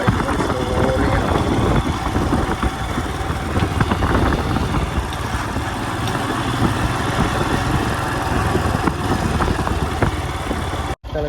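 Motorcycle engine running at low revs while riding slowly along a scenic road, a steady close rumble with broadband road and wind noise throughout, cutting out abruptly near the end.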